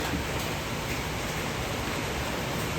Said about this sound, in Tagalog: at bumuhos na naman ang ulan.